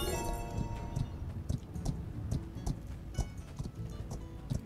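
Horse hoofbeats in the video game My Time at Sandrock as a horse is ridden through a gate: a steady, close clip-clop rhythm with faint clinking over it.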